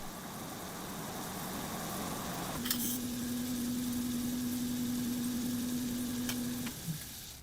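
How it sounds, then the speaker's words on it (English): A lathe spins a copper disc clamped against a wooden form while a steel tool presses the copper into a bowl shape. A steady mechanical hum runs throughout, with a sustained whine in the middle and a sharp scrape near the end. "As the lathe spins, a steel tool shapes the copper over the mold."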